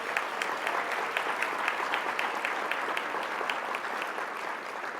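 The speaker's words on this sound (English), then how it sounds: "Give them a round of applause" An audience at the 2022 Pinnacle Awards gives a round of applause: steady, dense clapping from a large crowd that holds at an even level throughout, with no talking over it.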